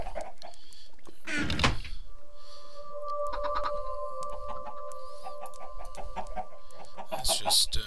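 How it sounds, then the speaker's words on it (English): Chickens cluck in Minecraft, a flock of fowl giving repeated short clucks and squawks in an irregular scatter over a steady background, with a louder rustling burst near the start and again at the end. "load of chickens that happen to be all over the place."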